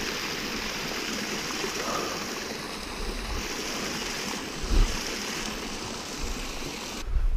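A small waterfall spilling into a stream on a mountain hiking trail near Crown King, Arizona, a steady broadband rush of water, moderately close, with a couple of soft thumps mixed in.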